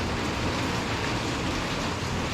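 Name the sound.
rain falling in a garden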